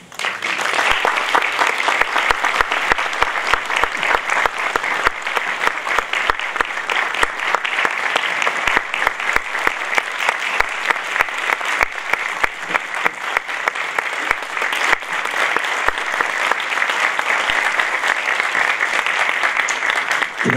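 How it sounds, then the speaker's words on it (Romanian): An audience at a theatre event in Suceava, Romania, applauds a visiting playwright: dense, sustained clapping from a full house that holds steady and loud for about twenty seconds, with no voices over it. "Îl aplaudăm pe Matei Vișnec."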